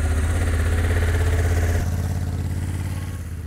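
Honda motorcycle engine as the rider pulls away, a steady mid-pitched thrum that drops slightly in loudness as the bike moves off, with no voices.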